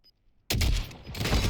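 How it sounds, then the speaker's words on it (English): A single loud HDR sniper rifle shot in Warzone bursts out after a short near-silence, followed by a long booming echo and rumbling tail that fills the rest of the moment. "The HDR sniper rifle, one shot, one kill."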